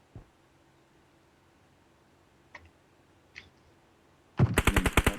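A quick burst of automatic gunfire in PUBG Mobile, about six sharp rapid shots close and loud at the very end, after a few faint clicks and near silence.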